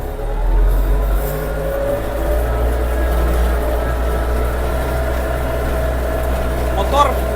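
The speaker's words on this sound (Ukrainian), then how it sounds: "принципі, непогано йде трактор." A heavy Scout 404C tractor engine drones steadily at low pitch while ploughing under load with a Unia 2/30 plough, with faint clanking on top and a brief squeak near the end.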